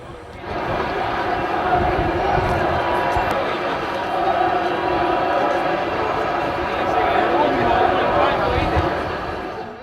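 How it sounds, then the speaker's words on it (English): Crowd at Yankee Stadium chants Bernie Williams' name during the last game there, a sustained, rhythmic mass of voices filling the space, with a louder voice speaking over the roar throughout. "to hear the crowd chant his name over and over again"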